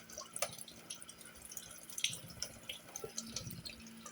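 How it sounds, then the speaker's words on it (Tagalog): Water trickles and drips into a soy sauce bottle being topped up in a home kitchen, a faint, irregular splashing that runs steadily for a few seconds with no talk over it. "nilalagyan ko ng tubig"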